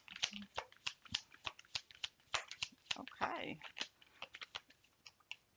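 Close, crisp riffling and flicking of playing cards being shuffled, irregular bursts of papery snaps, with a brief spoken word.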